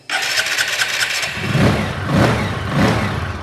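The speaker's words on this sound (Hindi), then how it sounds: "ये हमारी गाड़ी है न्यूट्रल और हम इसका सेल्फ काम कर देखते हैं" A motorcycle's electric self-starter cranks the engine in neutral, giving a loud whirring crank that catches and settles into a steady running engine with slight revving over a few seconds.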